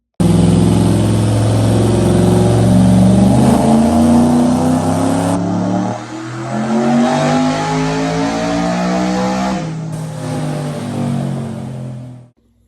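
A twin-turbo Ford Coyote engine on a dyno revs hard to 7,800 RPM and holds high, steady harmonics, dips briefly, then climbs again before cutting off abruptly at the end.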